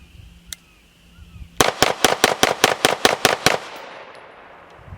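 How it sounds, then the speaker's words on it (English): A rapid string of about ten sharp, loud pistol shots from a Girsan 2311 Match X compensated 2011-style 9mm firing 115-grain rounds, evenly paced, followed by a fading echo at a range. "even rapid fire, it just stays right on target"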